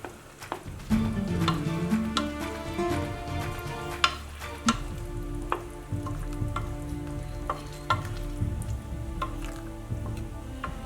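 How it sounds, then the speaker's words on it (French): Eggs, mushrooms and lardons frying in a pan, sizzling steadily while a wooden spoon stirs them gently, with soft scraping taps and clicks over the continuous crackle, close and alone. "je les ai ajoutés aux champignons et lardons, tout en remuant le tout tout doucement à l'aide d'une cuillère en bois."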